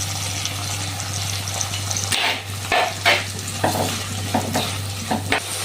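Sliced onions with a pinch of salt sautéing in a pan for a Kerala prawn chilli curry, a steady low sizzle with a constant low hum beneath and several sharp scrapes and clacks of a spoon stirring through the pan.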